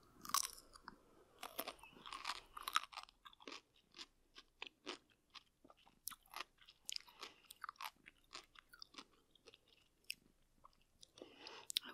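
Close, quiet chewing and crunching on a pickle, with dense irregular bites and wet mastication sounds following each other steadily for the whole stretch, with no talking.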